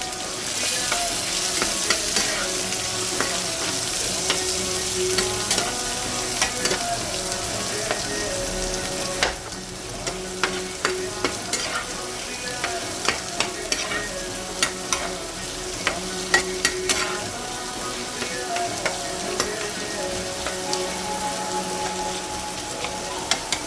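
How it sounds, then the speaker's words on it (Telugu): Onions sizzle steadily in hot oil for a lady's finger fry, and a spatula scrapes and taps the pan in irregular strokes for a long stretch without talk. "ఉల్లిపాయలు ముక్కలు కింద కట్ చేసుకుని వేసుకుని వేయించుకోవాలండి"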